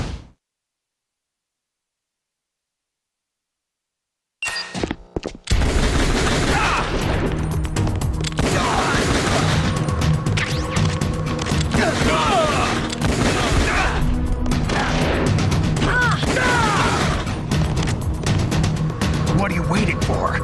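Heavy sustained gunfire and explosions from the video game Metal Gear Solid: The Twin Snakes, loud and dense for most of the clip after a few silent seconds, with shouted dialogue over the barrage.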